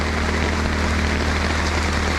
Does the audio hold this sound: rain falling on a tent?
yes